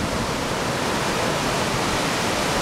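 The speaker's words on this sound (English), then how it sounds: "Now the big waves are coming in." Big ocean waves roll onto a rocky Hawaiian shore in a loud, unbroken roar of surf, with no voices or pauses.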